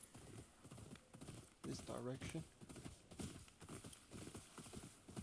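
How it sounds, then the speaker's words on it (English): A horse in the Ghost of Yotei video game trots up with steady clip-clop hoofbeats and lets out a whinny, while someone talks over it. "I think I will just call my horse."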